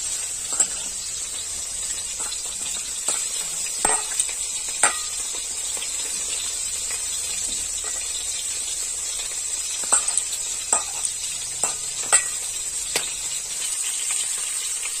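Eggs fry lightly in hot oil in a home kitchen, giving a steady soft sizzle with scattered small crackles and pops throughout, with no one talking.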